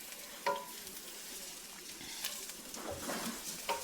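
Garlic sizzles in hot oil in a pan for Filipino spaghetti, with a soft steady frying hiss broken by occasional scraping stirs and light clinks, close and fairly quiet.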